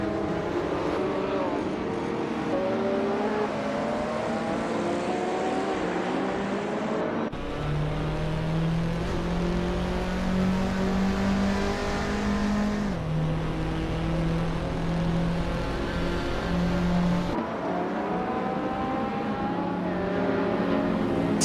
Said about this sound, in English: Jack Cinderbox is driving a 1978 BMW M1 Delars.